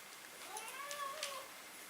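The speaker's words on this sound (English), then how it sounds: "I've got a cat who thinks it's dinner time" A house cat meows insistently for dinner, two or three rising-and-falling calls close by in a quiet indoor room, with no speech.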